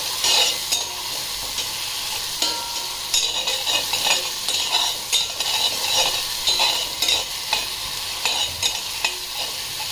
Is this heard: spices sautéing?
yes